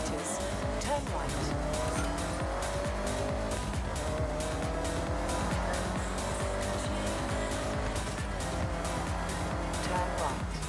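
A car in the Forza Horizon 6 racing game skids under the handbrake on a road race, with continuous tire squeal and engine roar, loud and steady throughout, game voice prompts faint beneath.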